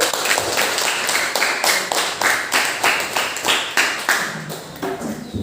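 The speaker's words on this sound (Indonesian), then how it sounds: "Tepuk tangan dulu" A class claps for a group presentation in an Al-Quran Hadith lesson, with sharp, rhythmic hand claps in a near-unison beat, roughly two per second, close and fairly loud with no talk over them.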